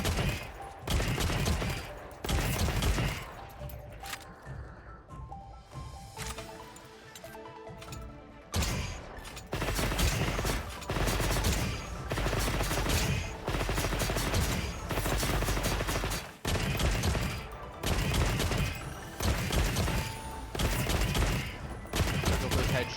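Bowgun fire in Monster Hunter Wilds comes as rapid, loud repeated shots in bursts with brief pauses, plus clinks and impact crashes, while a person talks over it in places.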